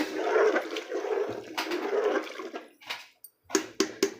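Water poured in a splashing rush into a pot of ration rice with cowpeas for cooking, three or so steady pours ending in short sloshing bursts, close and loud, no talking.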